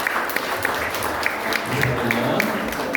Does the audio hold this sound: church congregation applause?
yes